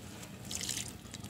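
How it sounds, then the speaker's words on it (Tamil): Fermented grain-cooking water, diluted with an equal amount of plain water, pours onto a small tomato plant in a home garden, giving a soft, steady trickle and splash of liquid with a brighter gush midway, quiet and close. "இப்போ அந்த பயிர் அவிச்ச தண்ணியில் மேல்கொண்டு 1 மடங்கு தண்ணி ஊற்றி இந்த சின்ன தக்காளி செடிக்கு நான் ஊற்றுறேன்."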